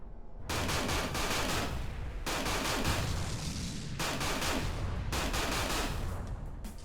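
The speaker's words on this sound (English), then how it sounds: "Explosions everywhere." Explosions in the space combat game Everspace come in dense, roaring bursts, four long waves of crackling blasts with brief gaps between them.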